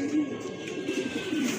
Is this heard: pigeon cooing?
yes